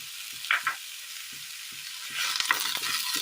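Green chillies sauté in hot oil in a pan while okra curry is being prepared, a steady low sizzle with a few stirring scrapes and small pops, close up and alone with no talking.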